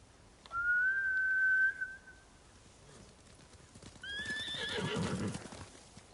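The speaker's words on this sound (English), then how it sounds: "Bastards scared off the horses." A horse whinnies in the video game Ghost of Tsushima, first one long, high, shrill call, then after a pause a second, rougher neigh over a rumble of hooves, moderately loud with no talk.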